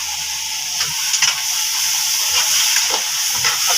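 White vinegar sizzling in a hot pan for chicken chow mein, a steady loud hiss and crackle with faint stirring taps underneath and no speech.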